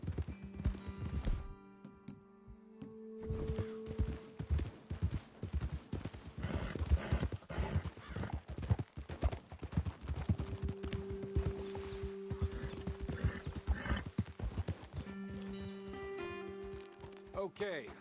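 Horses in the video game Red Dead Redemption 2 clip-clop steadily along a trail, with hooves thudding throughout and a brief whinny, while characters' voices talk over the hoofbeats.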